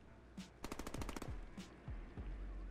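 Gunfire in the Deadpool video game on PS4: a rapid burst of about eight sharp automatic shots, framed by a few single shots and booming low thuds, close and loud over quiet background.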